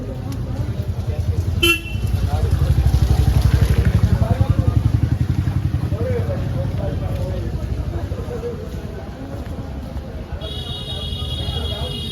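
A motorbike rides toward Blue Flag beach in Puri with a steady, close engine rumble throughout. Car horns toot briefly near the start and again toward the end.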